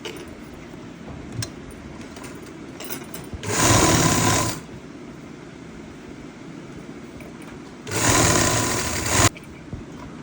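A sewing machine stitches a folded 3-inch cloth band for a suit's elastic waistband, running in two loud sustained bursts of about a second each, separated by quieter room noise.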